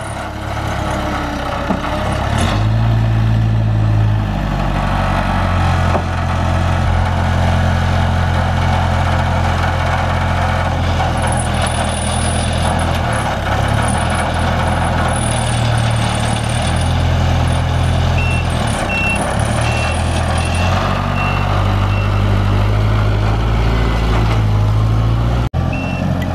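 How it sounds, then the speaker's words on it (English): A lorry on a farm lifts a load up onto its back, with a loud, steady engine drone and mechanical hydraulic whine throughout and faint high beeping partway through. "it just lifts up and then goes onto the back of the lorry"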